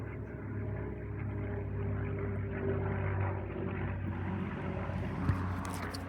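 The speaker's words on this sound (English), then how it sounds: "There's a noisy Spitfire aeroplane." A Spitfire aeroplane drones steadily overhead as a continuous, fairly faint engine rumble that swells slightly and fades, with no voices.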